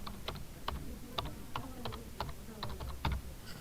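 Someone types on a computer keyboard at a moderate pace, the keystrokes coming as crisp, irregular clicks in small bursts, close and fairly quiet.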